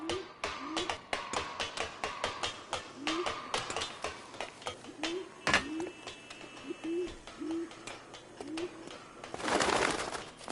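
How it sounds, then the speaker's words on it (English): Birds in the video game L.A. Noire: repeated short cooing, hooting calls like pigeons or doves, spaced through the scene over clicks and clatter, with a burst of noise near the end. "Get out of here, birds."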